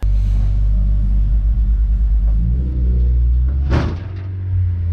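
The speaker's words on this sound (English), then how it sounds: "the top of any blooper reel will be driving into the bollard" A budget race car on track strikes a bollard: a loud, constant low engine rumble fills the whole stretch, broken near the end by one sharp crash-like impact before the rumble carries on.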